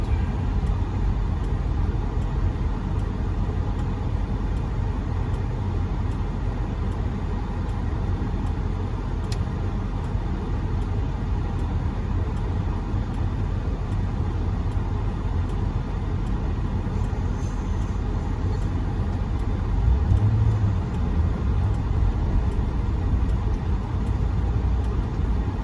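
Steady road traffic roar heard from inside a manual base C6 Corvette with an LS2 engine, a continuous low rumble of tires and engines without pauses over the whole stretch.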